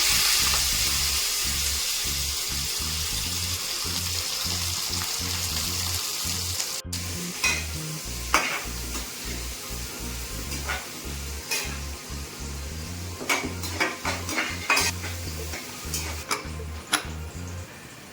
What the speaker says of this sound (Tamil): கடுகு நல்லா பொரிஞ்சது ஒரு கொத்து கருவேப்பிலை வெங்காயம் சேர்த்துக்கலாம்.